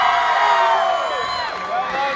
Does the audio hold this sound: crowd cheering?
yes